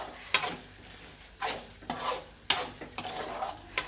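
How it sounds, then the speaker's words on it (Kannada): Gojju being mixed in a metal pot with a spoon, a series of scraping and clinking strokes at an uneven rhythm, close and moderately loud with no talking. "ಒಂದು ಸರಿ ಚೆನ್ನಾಗಿ ಮಿಕ್ಸ್ ಮಾಡಿಬಿಟ್ಟು"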